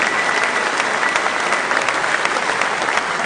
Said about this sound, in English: That deserves one more round of applause, ladies and gentlemen.